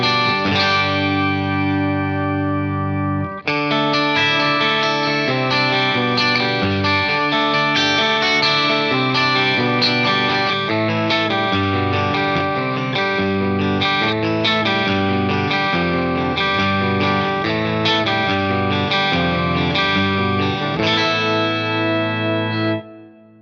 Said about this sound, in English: you get this kind of like faux 12-string kind of sound